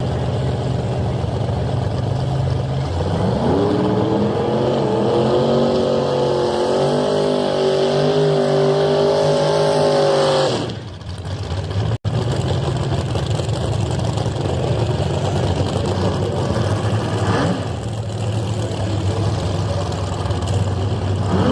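A Plymouth Duster drag race car roars at a motorsports park in Toronto, its engine note climbing loudly then cutting off before a sharp crack, followed by a steady rumble of engines and crowd ambience.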